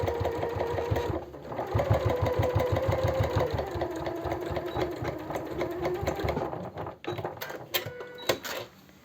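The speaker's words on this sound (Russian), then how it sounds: "Прокладываю строчку." A sewing machine stitches a seam along a one-piece cosmetic bag, its needle chattering in a fast, even rhythm after a brief pause, with the motor whirring close by and slowing toward the end.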